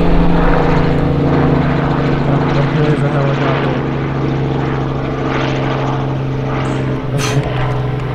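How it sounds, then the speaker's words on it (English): A tour helicopter drones steadily overhead, its rotor thrum loud and continuous throughout. "I think that's a tour chopper."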